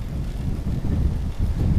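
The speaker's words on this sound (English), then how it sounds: "And it's really windy." Strong, bitterly cold wind at about 10°F buffets the microphone during a snowy outdoor bike commute. It makes a close, low, gusting rumble that surges and dips in waves, with no voices.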